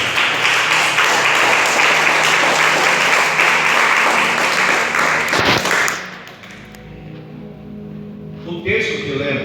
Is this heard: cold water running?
no